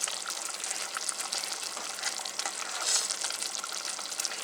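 Satay sauce boils and thickens in a pan, giving a steady, close bubbling sizzle with no pauses and no talking.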